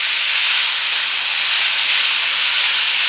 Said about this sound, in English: now we're going to go ahead and add our onions to that